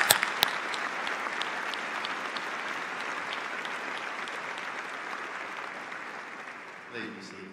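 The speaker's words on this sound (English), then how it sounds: "Everyone, please join me in applauding these tireless individuals" A large crowd at an Auburn University summer commencement ceremony applauds the faculty, a sustained, even wash of many hands clapping from a distance that slowly fades before a voice resumes at the end.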